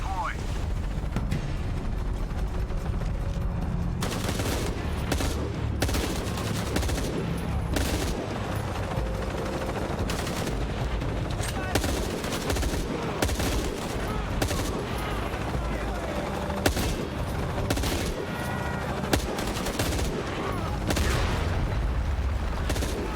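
Gunfire while shooting enemies in Shadow of the Tomb Raider: repeated sharp shots and bursts of rapid fire, some with heavy booming impacts, loud and close over a long stretch, with someone talking over it at times.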